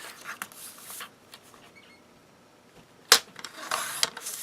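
Card stock is cut for a handmade card, heard as quiet scattered snips and paper rustles with one sharp, bright slicing stroke partway through, close and isolated.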